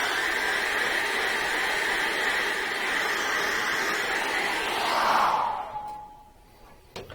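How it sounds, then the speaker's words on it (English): A hairdryer blows a steady, loud rushing hiss over acrylic paint for about five seconds, then switches off, leaving a brief fading whine before quiet. "I'm going to chuck the hairdryer around very quickly"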